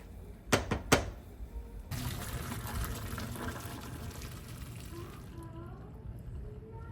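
Boiled pasta is poured out at a kitchen sink: two sharp clanks of the pot come first, then a steady rush of water splashing into the sink that eases off near the end.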